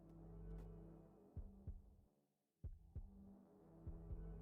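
Heartbeat sound effect from the video game Shin Megami Tensei V: steady, deep double thumps repeating over a low droning hum, with a short drop to near silence midway before the beats resume.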